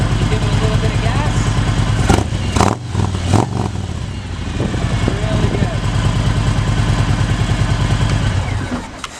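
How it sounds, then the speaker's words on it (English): A 2019 Harley-Davidson Street Glide Special FLHXS idles with a deep, loping rumble close up, then gets a few sharp throttle blips around the middle before settling back into its steady low idle. "got a nice low tone when you first start it up, and then when you give it a little gas, it sounds a lot nicer"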